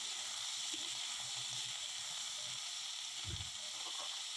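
Chopped brinjal (eggplant) sautéing in a pan, a steady soft sizzle and hiss throughout with a few low stirring bumps near the end, no talk over it.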